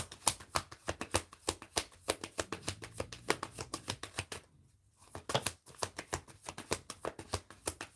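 Tarot cards are shuffled by hand in quick, crisp riffling bursts, close and steady, with a short pause midway before the shuffling resumes.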